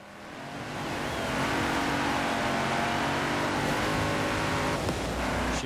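Racing car engine in Forza Horizon 4, loud and sustained at high revs through the whole stretch, with a brief shift in pitch near the end as a gear changes.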